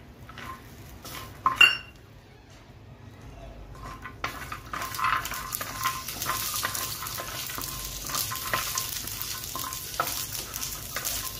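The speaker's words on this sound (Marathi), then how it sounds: "त्याच्यावरती आपण काजू ॲड करूया। 5 ते 6 लालसर होईपर्यंत भाजून घेऊया।" Cashews roast in a pan of hot oil for a Maharashtrian-style spicy mutton curry, giving a low, steady sizzle with soft stirring scrapes. A sharp clink of a utensil on the pan sounds early, and frying noise swells and continues throughout.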